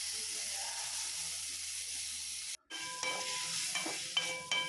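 Tomatoes go into a pan of softened onions and curry leaves for brinjal chutney, sizzling steadily, with stirring scrapes and clinks toward the end and a brief gap in the frying hiss.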